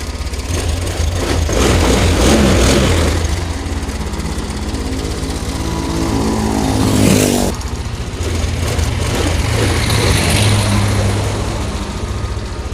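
Honda Beat Street scooter engine running, a loud, close, rattling idle with a steady pulsing rhythm, revving up briefly around the middle before settling back to idle, with no talking.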